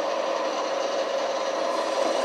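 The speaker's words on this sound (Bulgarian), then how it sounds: "И сега пробиваме димния канал по този начин на тая машина, наречена струк." Tobacco pipe's smoke channel being slowly drilled on a small machine, a steady quiet whirring hum with faint rasping cutting noise, continuous and close with no talk.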